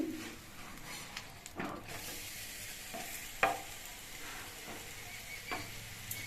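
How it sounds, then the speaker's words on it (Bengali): A breakfast snack sizzles softly in a frying pan after being flipped, with a few scraping stir sounds and a sharper clack midway over a steady quiet fry. "একটু আমি এক পিট মিনিট দুয়েকের মতো ভেজে নিয়েছি এবার এটা আমি উল্টে দিচ্ছি"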